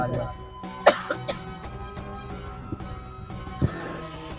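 A single sharp cough stands out near the start, with a couple of smaller throat sounds after it, over a low background hum and faint room noise.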